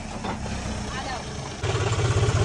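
A John Deere 5105 4x4 tractor idles with a low, steady diesel rumble that grows rougher and throbbing partway through, outdoors with background noise.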